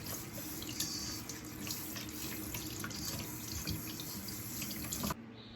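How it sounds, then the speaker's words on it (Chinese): Bitter melon is rinsed of starch under a running kitchen tap, a steady close splashing stream that continues evenly for about five seconds before the water abruptly stops. "再用流动清水把表面的淀粉冲洗干净就可以了"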